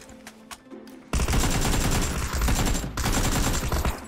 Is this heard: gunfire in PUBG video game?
yes